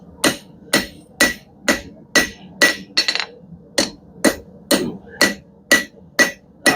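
A hammer strikes a custom steel hook in a workshop, about a dozen sharp, ringing metallic taps in an even, steady rhythm, loud and close with nothing else heard.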